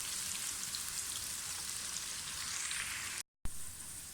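Onions browning in a frying pan for mutton yakhni pulao, giving a steady, even sizzle with fine crackling that runs throughout at close range, with one brief dropout near the end and no voices.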